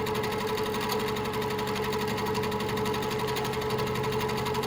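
A sewing machine runs at a steady, fast, continuous whir while free-motion quilting flower-petal filler designs, with its rapid needle chatter filling the whole stretch without pause.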